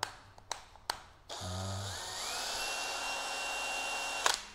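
A Hitachi 9.6V cordless drill spins up close by after a few sharp clicks, its whine rising in pitch, then holding a steady high drone for a few seconds before a click at the end.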